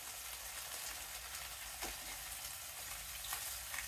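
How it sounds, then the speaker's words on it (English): Pork chops sizzle and fry steadily in a hot pan, a continuous close crackling hiss with small pops and no talking. "We want to cook these for about 4 to 6 minutes on each side, these pork chops."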